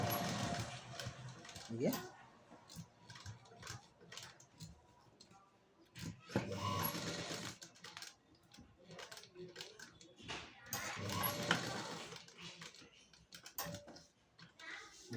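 A sewing machine stitches a work blouse neck in short bursts of fast mechanical whirring and ticking, separated by quiet pauses, at moderate distance with a few soft spoken words.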